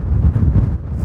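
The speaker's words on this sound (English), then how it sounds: "It's just a shame it's so windy" Strong wind buffets across a Shetland beach, a dense low roar gusting unevenly against the microphone, loud and close throughout.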